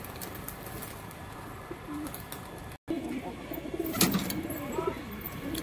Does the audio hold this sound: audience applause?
no